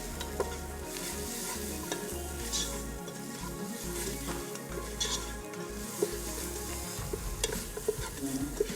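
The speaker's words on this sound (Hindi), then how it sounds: "मसाले को अच्छे से भूनना है।" Ground spice masala with garam masala powder and salt roasting in a pan for a beef boti dish, a close, steady sizzle with continual scraping stirs and no talking.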